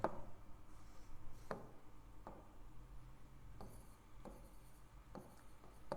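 Chalk taps and scrapes across a classroom board as a teacher writes out an English sentence, a series of short, sharp strokes spaced irregularly against a quiet room.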